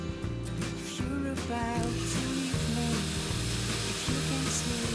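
Steady sizzling of batter cooking in a hot waffle iron, a constant crackling hiss, with clattering and background music underneath.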